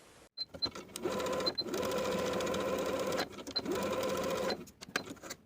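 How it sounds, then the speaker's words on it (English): A sewing machine running basting stitches along the top of a dress sleeve, whirring close in two long steady bursts with brief clicks and pauses between them. "We're going to sew basting stitches along the top of the sleeve from the front notch to the back notch with a 1/4 inch seam allowance."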